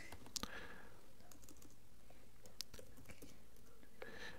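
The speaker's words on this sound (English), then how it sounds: "For example, I type here." Soft, quiet typing on a computer keyboard while entering a spreadsheet value, a sparse scatter of light key clicks in a hushed room.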